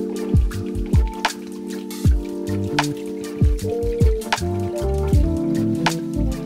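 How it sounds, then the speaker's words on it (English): Excess liquid clay slip being poured out of a heavy two-part plaster mold for slip casting a sphere, a close run of gurgling, glugging drips and splashes in an irregular rhythm. "Now I need to pour excess slip out of the mold."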